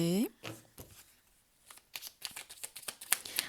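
A deck of tarot or oracle cards being shuffled during a spiritual guidance reading, a series of soft, close flicks and riffles following a brief voice at the start.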